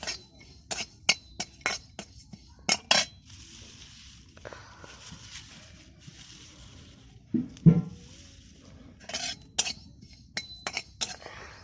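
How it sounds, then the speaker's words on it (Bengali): White sesame seeds dry-roasting over low heat, stirred in a pan: bursts of scraping and clinking strokes come in quick clusters, with a louder knock midway and quieter gaps between. "সাদা তিল এখন ভাজা হচ্ছে।"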